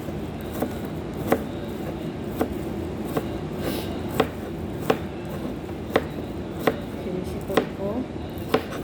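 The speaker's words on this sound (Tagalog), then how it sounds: "hihiwain na natin ng maliliit yung gulay" Vegetables being chopped into small pieces with a knife on a board, evenly spaced sharp knocks about once a second over a constant background hum, with a short spoken phrase.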